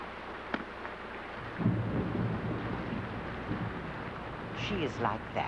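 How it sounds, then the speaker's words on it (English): Steady rain falls with low rolling thunder, faint and soft overall, and a brief sharp knock early on, with no voices. "Sometimes it is nice just to sit and listen to the rain"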